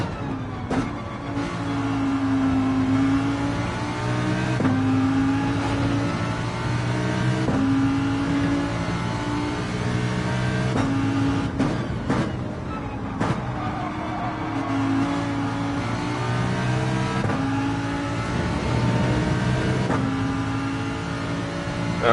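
Race car engine in an American-region online racing video game, a steady loud droning whine with shifting pitch as it revs and eases through turns, running continuously and alone without talk.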